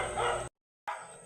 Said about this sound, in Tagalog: Pati yung aso naki-birthday greetings din.